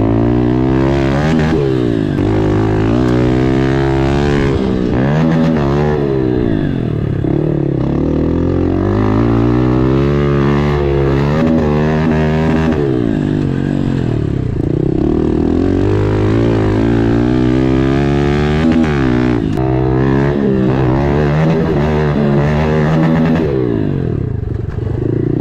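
A modified Honda CRF110 pit bike rides a backyard dirt track. Its small engine revs up and down close by for the whole stretch, climbing and falling with each throttle change, with no voices.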